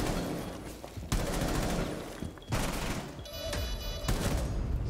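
Gunfire in a first-person shooter match, a dense burst of rapid shots that cuts off and resumes several times, loud and close, with no talking over it.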